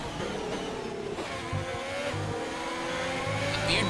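McLaren Formula One race car in a racing video game at the Canadian circuit, its engine holding a steady high-pitched drone with shifting tones as it runs close behind another car, loud and continuous with no voices.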